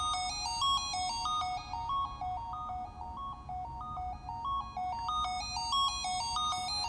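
A modular synthesizer, driven by an optical waveform scanner, plays a looping sequence of bright, buzzy stepped notes with its filter opened for a harsher tone, steady and moderately loud, with no talk.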